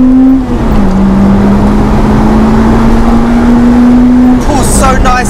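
A Honda Integra Type R DC5 engine holds a loud, steady high-revving drone for several seconds, then the pitch drops abruptly as the throttle lifts, with a brief burst of other sound near the end.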